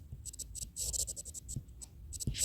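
Pen writing an answer on paper, a quick run of soft scratchy strokes close up, rhythmic and continuous with brief gaps between words.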